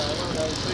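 Fokker triplane and vintage biplane engines run at full power for takeoff straight from the flight line, giving a steady, loud, broadband propeller roar that holds throughout.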